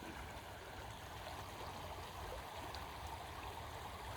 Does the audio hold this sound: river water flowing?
yes